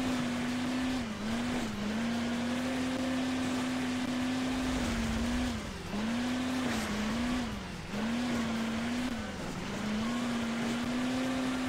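Race car engines from Hill Climb Racing 2 hum at a high, steady pitch, dipping and rising in repeated short revs across the stretch, loud and unbroken with no talk over them.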